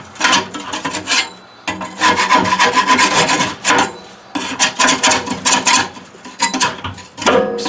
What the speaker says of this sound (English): we just get the scraper in there.